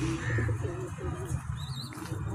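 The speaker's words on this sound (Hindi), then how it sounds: "ऐ ने जट दे कबूतर" Soft, low cooing of racing pigeons kept by a pigeon fancier, a few throaty coos close by with faint background noise and a brief higher chirp.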